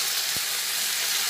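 Pointed gourd and potato curry sautéing in a pan, a steady close sizzle and hiss of frying that runs throughout the short moment.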